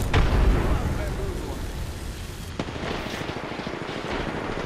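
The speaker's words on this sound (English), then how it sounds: "I'm gonna throw grenades" Grenade blasts in the Apex Legends battle royale game: a booming low burst at the start and another sharp crack midway, set against continuous game noise and rumble with a player talking over it.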